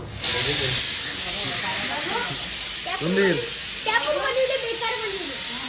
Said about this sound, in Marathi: कुकरच्या सिट्या वाजल्या